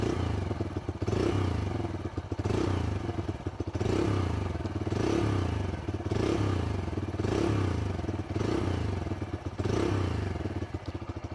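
A brand new Bajaj Freedom CNG motorcycle has its engine running, idling close by with a steady, loud, even putter and a faint rhythmic clatter, and no one speaks.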